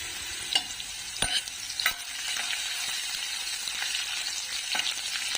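Ginger and chillies sizzle in hot oil in a pan, a steady frying hiss broken by a few sharp clicks of a spoon stirring against the metal, close and alone with no voices.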